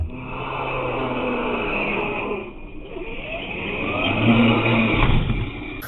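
An Arrma Kraton 6S EXB electric RC monster truck drives and revs nearby, its motor whining up and down in surges with rising pitch sweeps, outdoors with no talk.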